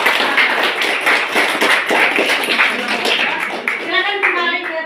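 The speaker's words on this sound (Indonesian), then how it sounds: "Selanjutnya kita berikan aplaus yang meriah kepada." A classroom full of students applauds a presenting group, a dense, steady patter of hand claps that holds throughout and thins slightly near the end as voices start to come through.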